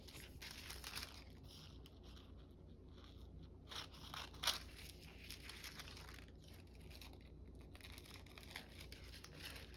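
Scissors snipping through gelli-printed paper in a quiet crafting setting, giving a few soft, crisp cuts and crinkles with one sharper snip standing out midway, faint and close with no talking.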